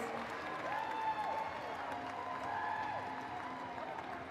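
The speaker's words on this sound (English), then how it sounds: "Round of applause for Kenya." A crowd claps steadily for several seconds after a sports tournament final, a soft, even patter of applause heard from a little distance.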